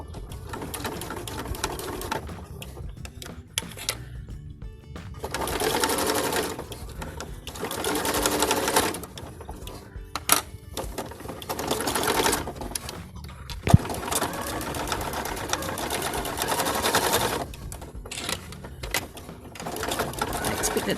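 A sewing machine runs a straight stitch through a surgical cap in loud, steady bursts of a few seconds each, stopping and starting, with a person talking in between.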